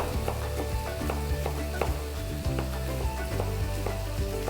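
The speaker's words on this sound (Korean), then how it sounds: "볶아질 수 있도록 같이 넣어서 볶아주셔야 돼요" Oil sizzles steadily in a hot pan as eggplant is stir-fried, with the intermittent clack and scrape of a spatula tossing the food, close and continuous.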